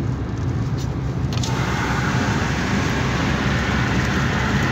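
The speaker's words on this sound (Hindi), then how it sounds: "मेरे शीशे पे ना हल्की हल्की बारिश हो रही है।" Light rain patters on the windshield of a car driving on the Makkah–Arafat road, a steady soft wash of droplets blended with continuous road and engine noise, no voices.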